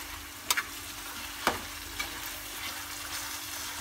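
Ground meat frying in a pan as it is stirred, giving a steady soft sizzle with a few sharp scraping clicks of the utensil near the start, fairly quiet and with no talking.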